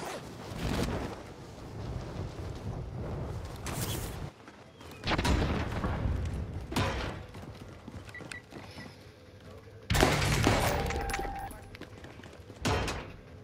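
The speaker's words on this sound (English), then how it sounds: "Little warning shot" Gunfire in Call of Duty: Modern Warfare, sounding as several sharp bursts of shots spaced across the stretch, with booming low rumble between them and a faint voice underneath.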